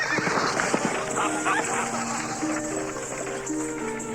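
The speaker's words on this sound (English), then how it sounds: "Suddenly, a sleigh, pulled by 2 horses, passes within a whisker of where Hazel stands." Two horses pull a sleigh past in a snowy winter scene as an audio drama effect: hoof clip-clops and a whinny at close range, with a steady rushing layer and a voice speaking over it.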